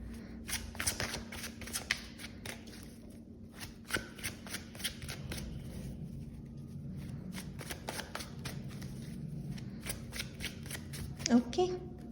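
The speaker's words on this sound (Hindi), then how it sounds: "पूरे मंथ के लिए कार्ड निकाल के देखते हैं" Tarot cards are shuffled by hand in repeated bursts of crisp riffling and flicking, close and fairly quiet, with a soft speaking voice at times.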